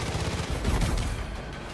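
Dense gunfire in the video game Far Cry 5, a continuous rattling barrage of shots filling the whole moment at close range without a break.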